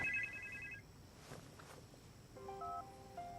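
A telephone rings indoors late at night, its electronic ring tone repeating in two bursts with a pause between them, heard alone at moderate volume with no one talking.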